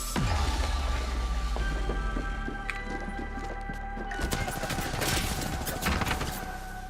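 Gunfire in the video game Apex Legends: a heavy shot opens, followed by rapid bursts and scattered cracks of automatic fire with metallic ringing tones, loud and dense, intensifying toward the end.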